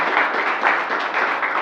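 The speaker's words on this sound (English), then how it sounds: "Oh, you got applause there." Audience applause in a university gathering hall, a steady patter of clapping from a modest crowd filling the whole short stretch at even volume.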